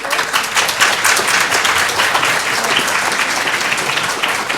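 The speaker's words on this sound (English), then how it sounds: "give her an applause." An audience at a political debate on climate change policy breaks into loud, sustained applause, dense clapping lasting several seconds with no talk over it.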